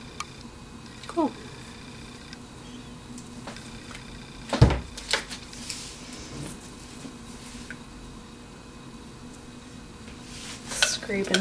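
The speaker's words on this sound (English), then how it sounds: "Scraping my bowl out here." A mixing bowl scraped out after pouring lemongrass cold-process soap batter, giving scattered scrapes and clinks of utensil on bowl, with a few louder knocks among quieter stretches.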